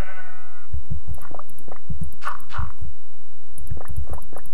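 Sheep bleating in Minecraft (FTB Interactions modpack), several wavering bleats from a small flock at close range over soft game background noise, no talk.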